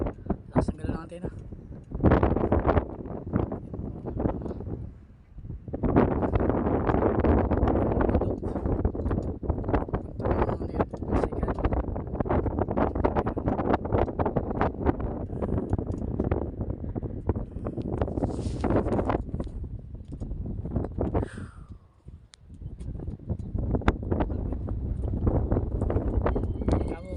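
Strong wind atop a 20-meter cell tower buffets the microphone in heavy, continuous gusts that roar and rumble with only brief lulls, while someone speaks at times underneath.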